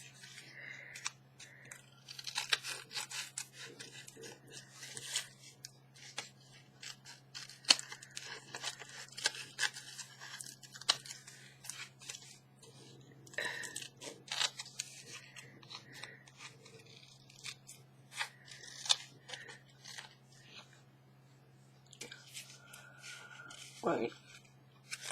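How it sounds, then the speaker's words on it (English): Scissors snip and trim around paper belly bands in a steady series of short cuts, with rustling paper handling throughout and a low steady hum underneath. "now we have to go around and trim around them all"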